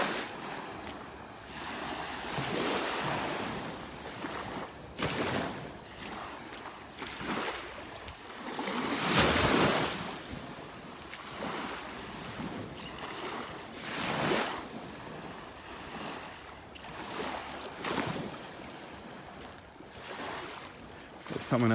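Surf rolls onto a beach in North Naples, Florida, with repeated broad crashes every few seconds over a constant wash and some wind buffeting the microphone, no voices.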